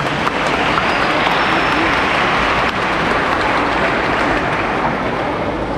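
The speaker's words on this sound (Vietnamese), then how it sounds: "Nếu mà nhớ được thì vỗ một tràng vỗ tay thật to." Loud, sustained applause from children and a church congregation at a Palm Sunday Mass fills the space steadily, a dense wash of many hands clapping without pause.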